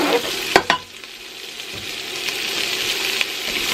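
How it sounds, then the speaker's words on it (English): Red onion fries in bacon fat with a steady soft sizzle, broken early by a couple of sharp clicks from stirring, close and fairly quiet with no talk. "And I'm going to cook that in the bacon fat."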